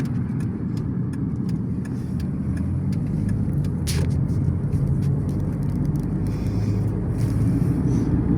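Steady traffic of many cars on a city road at the end of the workday, a continuous dense rumble of engines and tires passing nearby with no speech.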